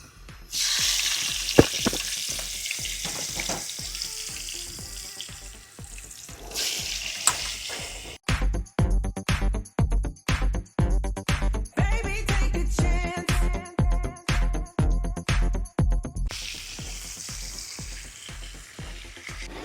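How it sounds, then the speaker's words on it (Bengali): Potato pieces frying in oil with a pinch of turmeric in an outdoor picnic cookout near a dam, a loud steady sizzle broken by stirring scrapes and clattering spoon hits. "আমি আলু ভাজবো আগে এবার আলুটা খানিক একটু কষে নিতে হবে"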